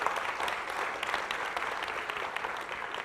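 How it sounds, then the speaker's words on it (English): Audience at a college convocation claps in a steady, dense burst of applause filling a hall, even and sustained for a few seconds without speech. "let's give a round of applause"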